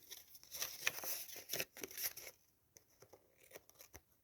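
Quiet snips and crinkles as scissors cut through paper, a few irregular strokes close by, then fainter trimming sounds.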